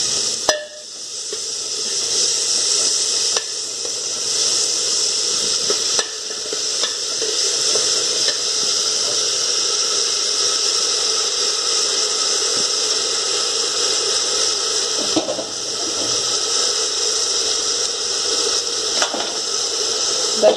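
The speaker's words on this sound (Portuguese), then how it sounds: "Deixar a cebola dar uma fritadinha aqui" Onion frying in a pan, a continuous loud sizzle and hiss with occasional stirring knocks and scrapes, close up and steady throughout.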